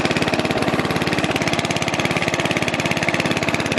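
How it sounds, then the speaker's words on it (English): A Murray Wide Body riding lawn mower engine with a loose exhaust runs steadily nearby, a loud, rapid, even putter with a rattling pulse throughout. "Damn exhaust come loose."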